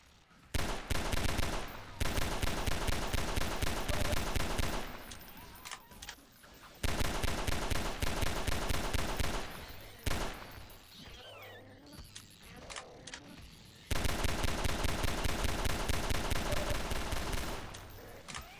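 Loud, sustained bursts of automatic gunfire in the Half-Life 2 video game, several long volleys of rapid shots separated by brief pauses, near and dense with no talking.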